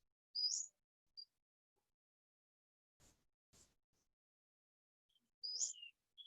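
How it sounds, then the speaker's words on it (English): Hawks call loudly outdoors: a few sharp, high screeches, one near the start and another near the end, with a couple of faint softer sounds between and quiet in the gaps. "Now the Hawks are awake. Now they're being really loud out there."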